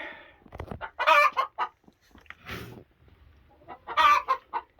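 A broody hen guarding her eggs gives low growling clucks and two louder, harsher squawking outbursts, close by and alone.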